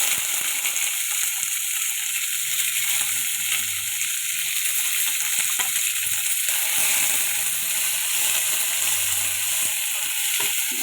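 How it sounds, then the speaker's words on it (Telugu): Tomato pieces sizzle and fry in a hot pan of oil while cooking egg fried rice, a steady bright hiss with occasional faint scraping of a utensil, no talking. "ఇప్పుడు అందులో మనం కట్ చేసి పెట్టుకున్న టమాటా ముక్కలు వేద్దాము"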